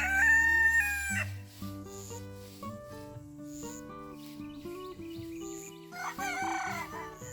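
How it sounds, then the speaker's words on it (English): A young rooster crows in a wavering, unfinished cock-a-doodle-doo, close and loud, over music playing in the background. "You hear that baby rooster? He's just figuring out how to crow."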